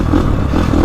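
KTM 450 Factory Edition dirt bike engine running steadily up close, a continuous low rumble with light clatter and small surges in pitch.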